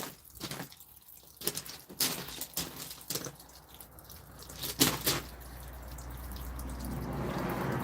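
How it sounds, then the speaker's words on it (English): Outdoors, water runs off a freshly resurfaced memorial slab, first as scattered drips and small splashes, then as a steadier trickle that grows louder toward the end. "I just have to let the water run off here first."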